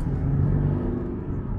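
An Audi A6 3.0 BiTDI climbs a small hill under light throttle, its diesel engine giving a close, low, steady hum and rumble that eases slightly toward the end.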